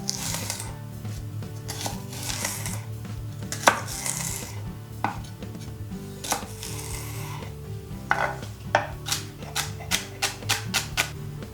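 Knife chopping a celery stalk on a cutting board, a run of crisp, sharp taps that speed into a quick regular rhythm toward the end, close and clear with no talking.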